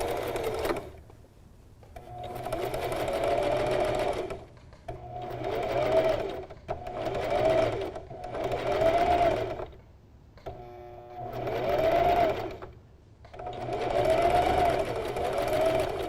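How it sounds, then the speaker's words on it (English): Sewing machine running in repeated bursts of several seconds each, zigzag stitching a fleece lining into a crocheted hat, with short pauses between runs as the fabric is repositioned. "we're going to be stitching up towards the tip. And we're going to do a nice zigzag."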